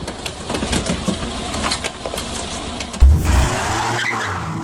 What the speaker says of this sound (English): The 485 horsepower V12 kicks in, the tires spin, and the car crashes into a parked vehicle.